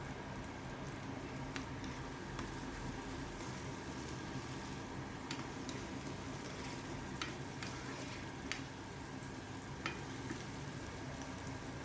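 Curry leaves hitting hot oil in a frying pan alongside softened brinjal, a steady close crackling sizzle with scattered sharp pops, no talk over it.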